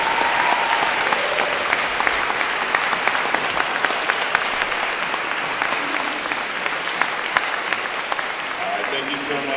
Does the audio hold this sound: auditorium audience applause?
yes